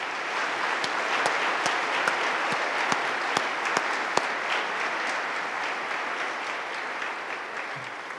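A large commencement crowd applauds honorees, producing dense, sustained clapping at an even level with sharp individual claps popping out near the front throughout.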